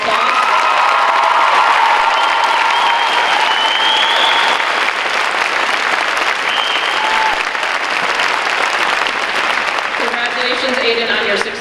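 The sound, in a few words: graduation audience applause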